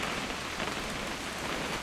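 Steady rain patters evenly in the video game What Remains of Edith Finch, a soft, continuous hiss with no voices over it.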